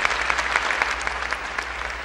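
An audience at the Rome Opera theatre applauds, a dense, steady wash of many hands clapping that continues evenly throughout.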